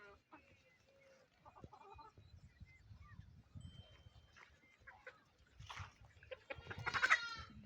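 A red rooster in a home backyard flock gives scattered clucks and short calls, nearby but fairly faint, with quieter background sounds and a louder burst of fowl calls toward the end.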